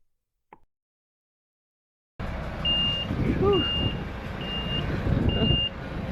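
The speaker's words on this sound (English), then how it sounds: "here is a truck delivering us 2 tons of riverstone" After a short silence a truck delivering two tons of river stone for a renovation site idles loudly, its reversing alarm beeping at a steady, evenly spaced rhythm over engine rumble, with a brief exhaled vocal sound early on.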